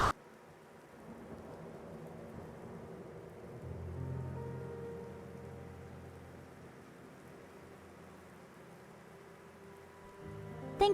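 Steady rain falls in the video game Seven, a dense wash of patter that swells a little near the middle and holds at a constant level throughout, with no voices.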